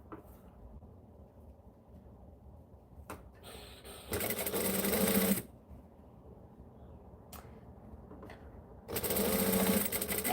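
A sewing machine stitches a bag in two loud, steady bursts of about a second each, separated by quieter handling noise and a couple of brief clicks.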